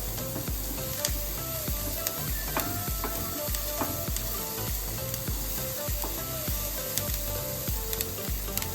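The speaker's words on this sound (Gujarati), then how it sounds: "હવે એક લીલું મરચું એડ કરીશું અને આદુ અને લસણની પેસ્ટ એ એડ કરીશું અંદર અને એને પણ સરસ સાતરી લેશું આપણે" Green chili with ginger-garlic paste sautés in a hot pan, a steady, close sizzle with repeated scraping stir strokes in a regular rhythm throughout.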